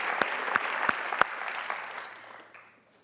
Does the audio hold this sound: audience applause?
yes